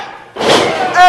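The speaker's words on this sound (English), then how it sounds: "Hits it with that Cobra clutch bomb right there. Jacks him right on the back of his head." A wrestler is driven onto the mat with a Cobra clutch bomb during a triple threat match, a single loud broad thud with ring rattle and crowd noise following, after a quiet lead-in.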